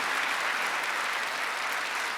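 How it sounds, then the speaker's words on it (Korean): A church congregation claps hard and steadily during a Sunday worship service, a dense, loud wash of applause that holds evenly throughout. "박수 세게 치세요"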